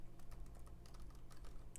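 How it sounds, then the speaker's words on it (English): Fast, steady typing on a computer keyboard, with close, quiet key clicks in an irregular rhythm over a faint hum. "Oh, I started typing in Google."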